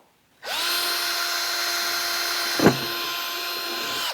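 Electric drill starts up and whines steadily while boring a hole in a new plastic reservoir tank under the hood of a BMW E30, with a brief bite and catch midway; no talking.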